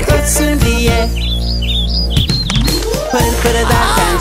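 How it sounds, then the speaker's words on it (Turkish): Bright bird chirps from a sound effect in a Turkish children's song about a little bird, sounding as a short run of rising tweets over the loud, busy music. "Aldım onu içeriye, cik cik cik cik ötsün diye."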